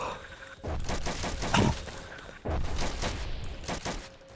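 Artillery and gunfire in a Roblox war video game: a sequence of loud booming blasts with crackling bursts, two dense volleys separated by a short lull, heard alone without talk.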